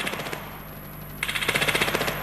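Rapid automatic gunfire from the mobile shooter Standoff 2 rattles in a fast, evenly spaced burst, loud and close, after a stretch of quieter game noise.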